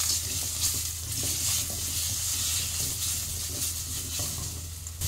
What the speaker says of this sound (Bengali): একটু দাগ দাগ করে ভেজে নেবো আলুটা।